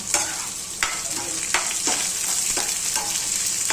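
Onion frying in a pan gives a loud, steady sizzle close by, cut every second or so by scraping stirs of a spatula, with no talking.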